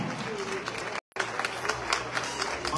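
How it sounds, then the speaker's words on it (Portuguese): Crowd applause at the coronation of the 2023 Coffee Queen in Patrocínio, Brazil: steady, dense clapping from a large audience, briefly cut to silence midway before resuming. "Uma salva de palmas para o prefeito de patrocínio"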